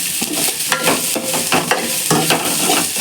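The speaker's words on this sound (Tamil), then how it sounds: "வெங்காயத்தை வதக்கிட்டு பாவக்காய் வதக்குறேன்" Bitter gourd and onion are being sautéed in a pan for a tamarind curry, with a loud, close sizzle broken by several sharp spatula scrapes and stirring knocks at an uneven rhythm.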